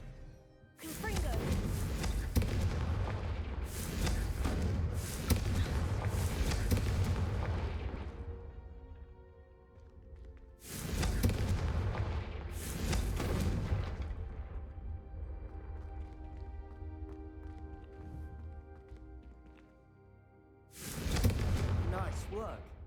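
Confringo fire spells cast in Hogwarts Legacy land as a series of heavy booming blasts, several in quick succession with long rumbling decays, then a pause before another pair and a final blast near the end.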